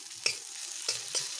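Okra sizzles with spices in a pan as a spatula scrapes through it in three quick strokes over a faint, steady frying hiss.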